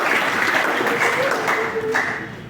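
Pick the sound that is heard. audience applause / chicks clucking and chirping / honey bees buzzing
audience applause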